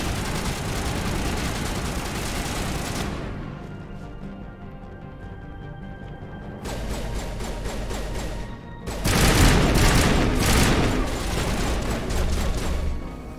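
Weapon fire in Mass Effect 1 Legendary Edition, dense bursts of gunfire and impacts, loud and close, pausing briefly then resuming harder with crashing hits.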